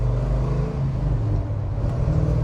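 A 1969 Chevy Chevelle with a 5-speed manual cruises along, its engine a low, steady rumble from inside the car with a continuous road drone and no distinct gear-change break.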